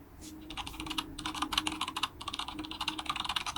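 Typewriter typing sound effect added in a CapCut edit: a fast, steady run of crisp mechanical key clacks, close and fairly loud, with no voice.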